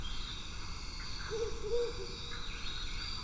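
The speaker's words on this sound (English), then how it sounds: "Yeah, you can hear some owls." Low owl hoots call a few times in the distance over a steady hiss of night ambience, soft and spaced out.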